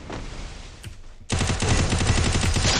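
Rapid shotgun gunfire in a video game, loud and close, breaking out after a quiet moment into a dense run of repeated blasts that continues to the end.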